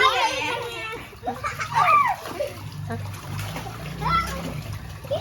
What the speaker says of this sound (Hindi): मैं स्विमिंग कर रहा हूँ.